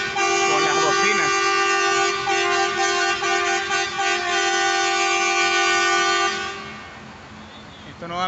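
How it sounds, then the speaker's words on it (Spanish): Tractor horns honk in a loud, sustained, overlapping chorus at a farmers' protest in Salamanca, Spain, blaring continuously for several seconds before thinning out near the end. "aquí en España, con las bocinas"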